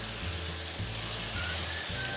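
Mixed vegetables for aloo gobi matar gajar sabzi (potato, cauliflower, peas, carrot) hitting a hot pan, a loud, dense, steady sizzle and frying hiss heard up close with no talk.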